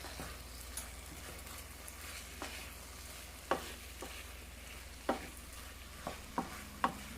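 Vegan mushroom and vegetable rice being stirred and folded in a pot, a quiet sizzle under intermittent scraping knocks from the spoon, spaced irregularly and close by.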